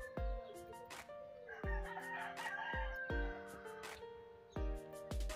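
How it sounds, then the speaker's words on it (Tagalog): Roosters crow repeatedly among clucking chickens on a farm, several overlapping calls at close to mid distance with short sharp sounds recurring about once a second, no talking. "Maraming manok dito."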